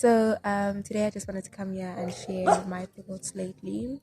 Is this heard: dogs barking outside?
yes